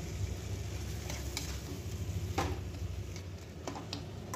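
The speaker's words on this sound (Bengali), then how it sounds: "কিছুক্ষণ নাড়াচাড়া করে চিংড়ি মাছগুলোকে আমি ভালো করে কষিয়ে নিলাম" Shrimp and green peas stir-fried in spiced oil in a pan, a soft continuous sizzle with occasional scraping stirs, fairly quiet and steady throughout.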